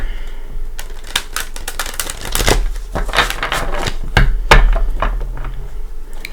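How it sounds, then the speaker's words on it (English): A tarot card deck being shuffled by hand, a dense run of crisp riffling clicks and slaps lasting several seconds, close and fairly loud with no talking. "let's start by giving Mother Mary a shuffle"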